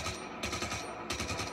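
Rapid automatic gunfire in the video game Just Cause 3, two bursts of fast repeating shots, loud and close, with no talking.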